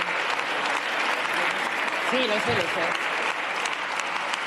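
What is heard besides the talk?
audience applause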